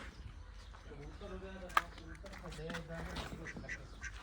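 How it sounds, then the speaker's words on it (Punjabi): Ducks quack in short, scattered bursts close by while a person talks over them, with one sharp click partway through. "ਬਤਖਾਂ"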